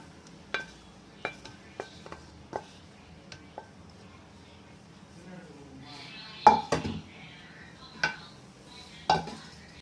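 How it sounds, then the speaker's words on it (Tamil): Tomato pachadi being scraped from a cooking pan into a container, with a metal spoon giving a series of sharp, close clinks and scrapes spaced irregularly against the pan, the knocks growing louder and busier toward the end. "இதை வந்து நல்லா வலிச்சு இதில் ஊற்றி வச்சுக்கிடுவோம்"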